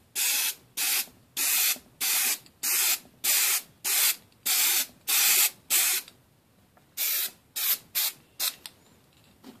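Rust-Oleum NeverWet coating is sprayed onto a smartphone from an aerosol can in a string of short hissing bursts, about a dozen in a regular rhythm, close up, with the bursts shortening toward the end.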